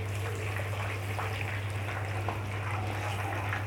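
Water boiling with soaked rice in a pot on a home kitchen stove: a steady bubbling hiss over a constant low hum, with no talking.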